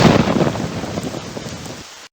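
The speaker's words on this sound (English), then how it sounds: "I wanted to listen to the thunder." Thunderstorm with rain as a sound effect in the 1997 PC game Reader Rabbit's Reading Development Library 3, a loud rumbling roll of thunder over hissing rain that fades out before cutting off abruptly.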